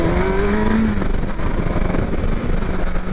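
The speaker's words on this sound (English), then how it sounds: "This is a 1000cc motorcycle." A 2023 Kawasaki Versys 1000 SE LT motorcycle engine roars steadily up close, its pitch climbing as it accelerates hard, loud and continuous throughout.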